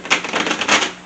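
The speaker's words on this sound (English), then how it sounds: "Quick little shuffle here." A quick riffle of tarot cards being shuffled, a crisp rapid flutter of papery clicks lasting about a second, close and alone.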